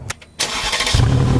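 A few clicks and a brief starter crank as a key is turned, then a Mercedes G550 4x4 Squared SUV engine catches and roars to life, settling into a loud, steady rumble close by.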